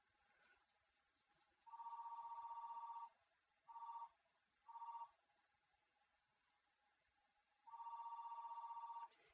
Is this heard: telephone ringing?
yes